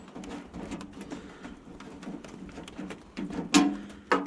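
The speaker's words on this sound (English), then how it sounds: "those tinging sounds you hear right now is up on the metal roof here, the rain hitting it" Rain strikes a metal roof above a portable sawmill, giving scattered light tinging taps at an irregular pace that grow a little louder and sharper near the end.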